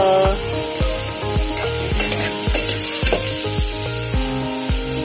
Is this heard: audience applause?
no